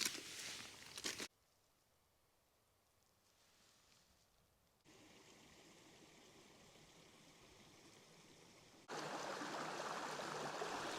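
Steady water flowing in a stream beside a moorland wild camp in the North York Moors, a continuous broadband rush that shifts in loudness, getting quieter then louder again as the listener moves near and away.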